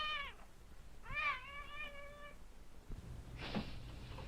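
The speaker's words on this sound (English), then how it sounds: "Outside, a cat is already up and looking for his breakfast." A cat meows outside at dawn in a quiet city, giving two clear drawn-out meows close by, followed by faint rustling.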